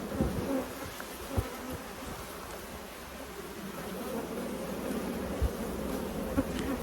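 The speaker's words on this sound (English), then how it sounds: "Plenty of nurse bees." A steady, low drone of many honey bees buzzing together in a hive, close and continuous, with occasional soft knocks.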